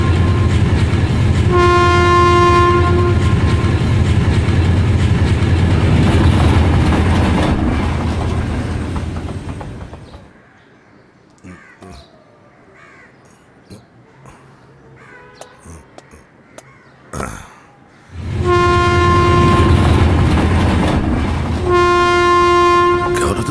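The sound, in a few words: train arriving with horn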